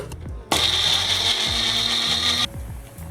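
A kitchen mixer grinder whirs at full speed for about two seconds while grinding two medium tomatoes, a steady high-pitched motor whine that starts abruptly and cuts off sharply, with clunky mechanical rattling around it.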